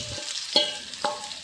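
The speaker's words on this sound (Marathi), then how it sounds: "आता मी संपूर्ण भेंडी तव्यामध्ये टाकून घेतली आहे आणि तिला खाली वर करून चमच्याने व्यवस्थित परतवून घ्यायची आहे।" Whole okra stir-fried in a pan and turned with a spoon gives soft scraping stirs, with a few clicks of the spoon against the pan over a faint sizzle, close and fairly quiet, no voices.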